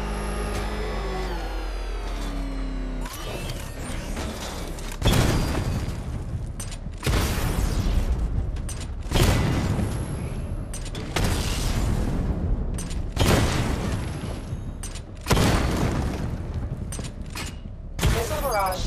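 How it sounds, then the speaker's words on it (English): Missile barrage from the Batmobile in Batman Arkham Knight blasts a series of targets, with heavy booming explosions landing roughly every two seconds over a rumbling game soundscape, loud and close. "Destroy targets to charge up weapon energy and activate missile barrage."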